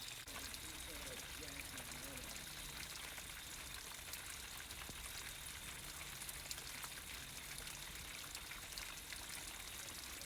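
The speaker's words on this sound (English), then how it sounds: "here it is, the Ringing Rocks waterfall" A small waterfall cascades over rocks at Ringing Rocks Park, a steady, dense rush of falling water that stays constant throughout without any break.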